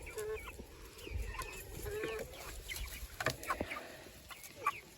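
Backyard homestead hens kept for eggs cluck softly and intermittently, fairly faint, against a steady low background rumble.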